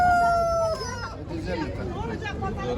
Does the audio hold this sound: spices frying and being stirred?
no